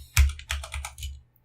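Several quick keystrokes on a computer keyboard as an SSH command is typed, close and distinct, in a short uneven burst with nothing else heard.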